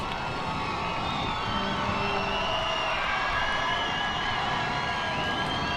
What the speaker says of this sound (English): the crowd comes alive for the Seahawks